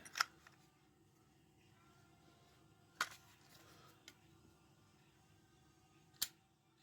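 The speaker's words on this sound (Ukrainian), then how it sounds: "тут затвор. От, Включаємо затвор." Shutter of a Smena-8M film camera released several times, each a sharp faint mechanical click standing out against quiet room hiss, with about three distinct snaps spaced a few seconds apart.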